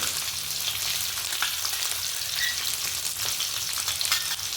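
Soya chilli sautéed on a high gas flame, a dense, steady frying sizzle heard close and alone, with faint stirring scrapes now and then.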